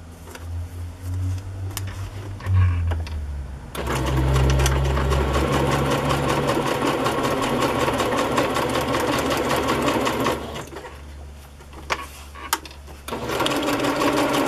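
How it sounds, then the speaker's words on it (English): A sewing machine stitches ephemera onto a card, a steady close mechanical whir running almost continuously, with a lower motor hum early on and a few brief pauses and clicks near the end. "And I will sew it to the card."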